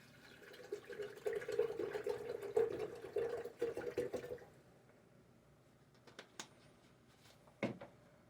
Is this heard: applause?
no